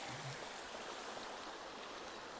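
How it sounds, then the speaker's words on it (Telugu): Water rushes and splashes over rocks in a constant, even roar, like a waterfall heard from nearby, with no voices. "ఈ వాటర్ ఫాల్స్"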